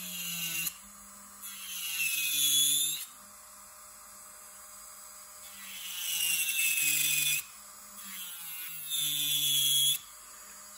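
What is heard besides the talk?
electric nail drill filing down gel nail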